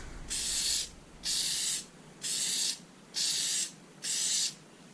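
Aerosol can of Plasti-Dip sprayed in a light dusting first coat onto a Hyundai badge from about six inches away: five short, even hissing bursts with brief pauses between, close and fairly quiet.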